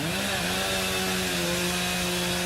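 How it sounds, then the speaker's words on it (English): A chainsaw cuts through hurricane debris after Hurricane Irma, its engine holding a loud, steady, continuous buzzing drone throughout with no pauses. "Oh, come on, enough with the chainsaws already."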